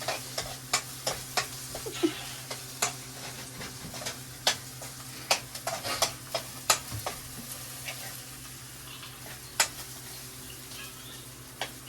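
Omelette frying in a pan on a stove, a steady soft sizzle under repeated sharp clicks and scrapes of a utensil stirring against the pan, close and fairly quiet.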